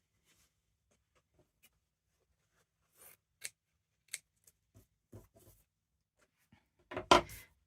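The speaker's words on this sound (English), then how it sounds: "Let's just cut the strip off here." Scissors snip through a strip of fabric while a master-board is made, giving a few quiet, scattered cuts followed by a louder, closer snip near the end.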